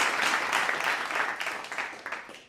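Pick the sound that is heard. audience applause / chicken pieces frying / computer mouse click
audience applause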